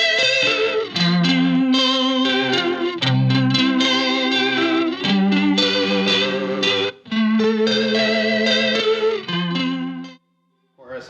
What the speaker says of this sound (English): next up is the Earthquaker Aurelius. I use that for weird chorus effects